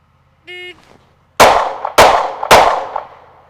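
Canik Mete MC9 pistol fired during timed shooting drills: a short electronic timer beep, then three sharp, loud gunshots about half a second apart, each with a brief ringing tail.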